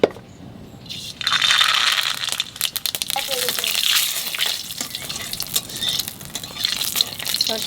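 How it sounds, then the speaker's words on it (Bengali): Mustard seeds and chillies fry in hot oil, a loud crackling sizzle that jumps in after a quiet start and keeps sputtering with irregular pops and stirring scrapes. "তেলের মধ্যে দিয়ে দেবো সর্ষে"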